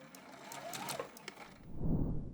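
A sewing machine runs close by, stitching the top-edge seam of a fabric purse, then slows and stops, followed by a soft low rustle of fabric being handled.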